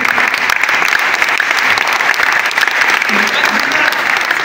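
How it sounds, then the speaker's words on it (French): An audience applauding, dense and loud clapping held steadily throughout, close and continuous with some crowd murmur mixed in. "Ça mérite des applaudissements,"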